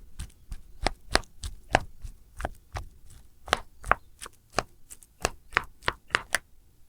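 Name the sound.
slicing bananas into rounds for maruya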